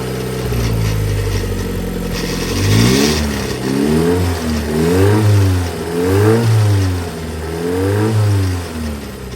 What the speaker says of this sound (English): Drive shaft's a bit noisy.